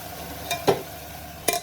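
Peas frying in a pan with yogurt and spices, a few brief stirring scrapes and soft sizzles, close and fairly quiet, with no talk.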